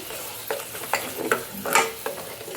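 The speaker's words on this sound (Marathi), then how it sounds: "सगळा आपण मसाला बारीक करून घेतला तर ते घालायचं आणि चांगलंसं आपल्याला हे परतून घ्यायचं." Ground masala for a soybean curry is sautéed in a pan, with a soft sizzle and a few quick scraping stirs close by.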